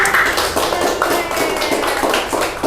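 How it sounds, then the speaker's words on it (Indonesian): A small group claps for Sheryl during a class session, loud close hand clapping in a quick, steady pattern lasting a few seconds without speech over it. "tepuk tangan buat Sheryl"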